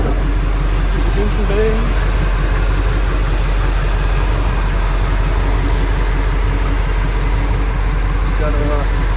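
A 1985 Chevrolet K5 Blazer with an Edelbrock setup idles steadily after a cold start under a popped hood, a loud, close, even low rumble throughout, with someone talking over it.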